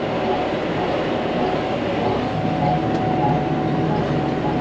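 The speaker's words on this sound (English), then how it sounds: "Flying on the small square baler." A small square hay baler running in a hayfield on a windy day, a loud, steady mechanical drone that continues without a break from start to finish.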